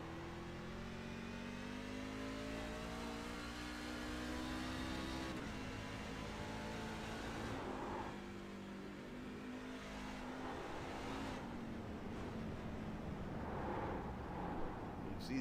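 NASCAR-style trucks race around a slick oval in a NORA truck series event, their engines droning and revving in a distant, steady roar that rises and falls as the trucks pass, with faint crowd or broadcast ambience underneath.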